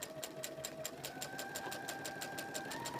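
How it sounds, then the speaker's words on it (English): Sewing machine stitching along the facing of a Quiltsmart Liberty Crown quilt: a fast, even run of needle strokes in steady rhythm, close and fairly quiet, with no talking. "So we're just going to stitch along there."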